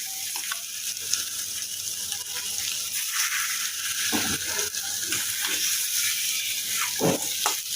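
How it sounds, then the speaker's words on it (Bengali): Fish head and tail fry in a pan and get stirred, a steady close sizzle with scraping clicks of the spatula against the pan, alone without talk. "এদিকে হচ্ছে মাছের মাথা আর লেজ এগুলাকে দিয়ে একটু সামান্য নাড়াচাড়া করবো"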